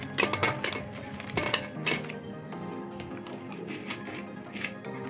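Mango pickle is pressed down in a steel bowl, producing a cluster of metallic clinks and scrapes early on, then softer intermittent taps against the steel.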